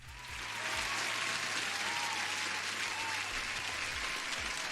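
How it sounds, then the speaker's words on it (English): Dense, steady applause-like wash during a live forex and gold trading stream, continuous and loud, with a low repeating tone underneath. "Let me get an applause for some regulars"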